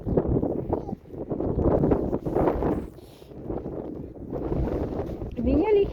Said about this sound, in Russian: Ветер офигенный. Смотри, какой снег идет и ветер.